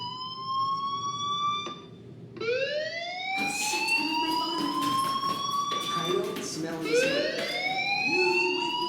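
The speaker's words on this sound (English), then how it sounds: "Hey, do you hear that fire alarm?" A school fire alarm wails in rising, repeating sweeps in the game Life Is Strange, loud and continuous, briefly dropping out before restarting, with a voice talking over part of it.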